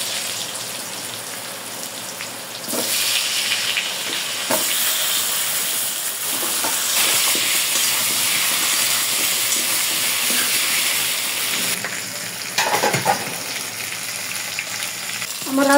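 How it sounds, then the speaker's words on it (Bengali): Potatoes frying in hot oil in a wok make a loud, continuous bubbling sizzle that swells after a few seconds and holds steady. A few clatters come through near the end, with no speech. "এই তেলের ভিতরে আলুগুলো ভেজে নেব।"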